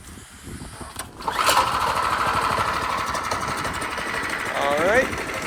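Gas go-kart engine, remote controlled, cranks and catches, then runs at a steady loud buzzing idle, with a brief rev near the end; a voice talks over it at the start.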